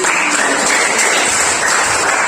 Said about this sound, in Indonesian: Tepuk tangan untuk teman